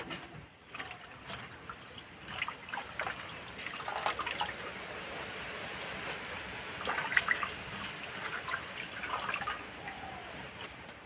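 Malabar spinach greens are rinsed under running water, a steady soft splashing and trickling with scattered drips throughout, quiet and without talk.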